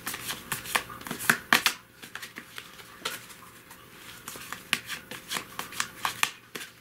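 Tarot cards shuffled by hand in a quick, uneven run of crisp riffling and patting bursts, close and fairly loud, with short pauses between clusters and no talking.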